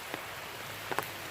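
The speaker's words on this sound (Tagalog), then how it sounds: "Nakikita nyo ba yan? Umuulan." Light rain falls at a recreation center, a faint steady patter with a few brief louder drips, quiet and close.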